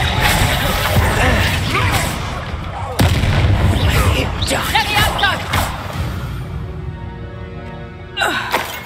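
The Bombarda explosion spell in Hogwarts Legacy goes off with a sudden loud boom and crashing debris, followed by further blasts and rumbling, while character voices speak over the action.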